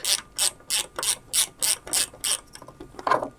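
A ratchet unscrews a 3D-printed nut from a BMW car jack, with about eight evenly spaced, crisp clicks in a steady rhythm and then a final, heavier clack.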